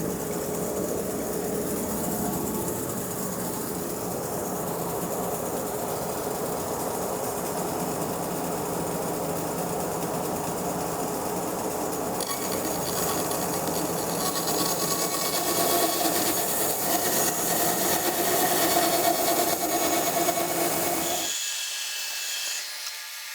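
Wood for a boat's upper transom frame is cut with a power tool, a sustained whining, grinding drone that grows louder midway before stopping abruptly.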